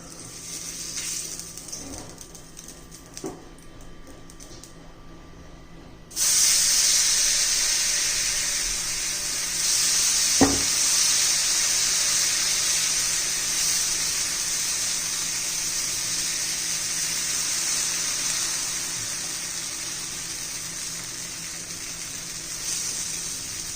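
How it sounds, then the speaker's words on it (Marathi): Wheat-flour breakfast pancake frying in oil on a pan, a steady close hiss that swells abruptly and holds loud and even, with a brief clack partway through and no talking. "आता मी दुसरं पण बनवून घेते आता पुन्हा आपण तेल लावून घेऊया"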